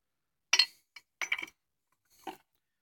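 Vintage glass bottles, including blue ones, clink together as they are handled, giving a few short, bright taps scattered across a quiet background, close and fairly soft.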